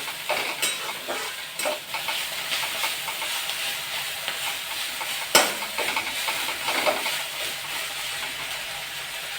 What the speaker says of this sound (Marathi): आपण भाजी थोडीशी परतत आहोत आणि एक मिनिटासाठीच आपण ही भाजी परतत आहोत